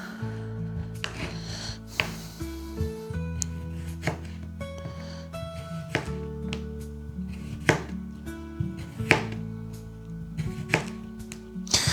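BPS Knives Colibri, a small folding knife, slices through a cucumber in a few sharp, crisp cuts spaced seconds apart over quiet background music.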